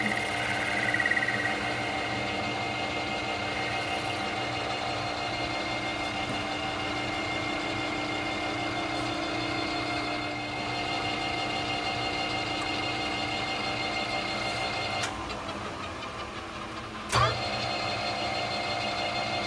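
A metal lathe cuts a rough outside diameter under automatic feed, giving a steady close mechanical hum and whine with faint cutting noise throughout, then a shift in tone near the end and a sharp metallic click.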